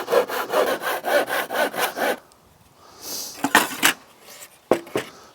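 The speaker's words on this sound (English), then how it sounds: "from there on in I can now saw." Hand saw cutting wood for shed featherboard, about ten rhythmic close rasping strokes, loud and steady, then a pause followed by a few scraping and knocking sounds.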